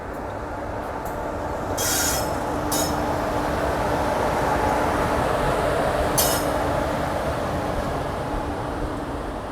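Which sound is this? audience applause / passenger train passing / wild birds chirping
passenger train passing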